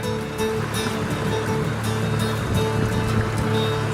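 The Yellow River flowing beside a hiking trail, a loud, steady wash of rushing water filling the whole moment at close range, with a low constant rumble beneath and no speech.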